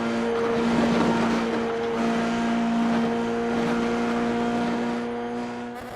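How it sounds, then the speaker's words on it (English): An iRacing race car in a Motorsport Australia Asia Pacific qualifier runs flat out, its engine holding a loud, steady, high-pitched whine at full throttle that eases slightly near the end. "Let's just have a listen to this full throttle section."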